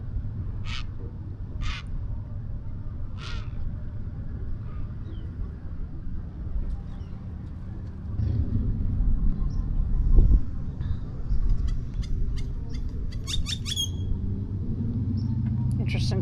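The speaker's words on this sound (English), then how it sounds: "Interesting sounding birds in this tree." Several brief, sharp bird calls ring out from a tree at the Lake Elsinore beach, over steady low outdoor background rumble, with a faint cluster of quick chirps later on.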